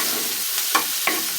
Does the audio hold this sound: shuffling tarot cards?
no